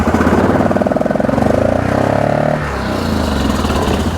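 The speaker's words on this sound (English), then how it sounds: "Let's see what happens when I rev it up." A Yamaha Grizzly 660 ATV engine, suspected of a blown head gasket, is revved up from idle. The throttle rises in a close, throbbing burst, then eases back toward a lumpy idle.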